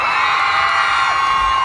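A large crowd at a P-pop concert on the SM MOA grounds screams and cheers loudly and continuously, a dense wall of high-pitched shouting with no break.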